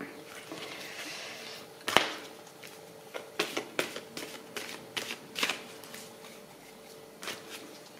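Tarot cards handled during a French-language card reading, with a sharp snap near two seconds followed by a series of soft, irregular taps and slaps as cards are flipped and laid down on a surface, close and fairly quiet.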